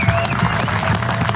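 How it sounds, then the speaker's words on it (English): An audience applauds the organizers at a fishing and hunting event, a short burst of dense, moderately loud clapping filling the room. "I think we need to give these guys a round of applause."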